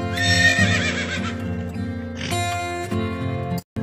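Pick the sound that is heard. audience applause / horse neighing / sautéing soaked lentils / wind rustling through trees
horse neighing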